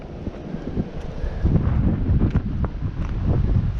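Strong, gusting wind buffets the microphone beside a river in March, a continuous rough roar that swells and dips with no voices.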